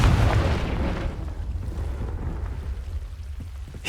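A Confringo blasting spell explodes in Hogwarts Legacy with a heavy, booming burst at the start that rolls off into a long rumbling decay, then a small sharp pop at the very end.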